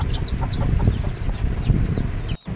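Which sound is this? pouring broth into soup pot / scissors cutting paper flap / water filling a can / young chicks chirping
young chicks chirping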